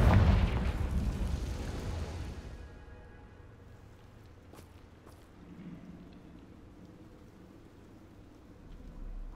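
A Confringo spell explosion in Hogwarts Legacy bursts loudly at the start, then fades into a low, rumbling crackle and a faint, lingering hiss.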